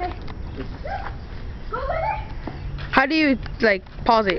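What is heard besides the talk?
dog barking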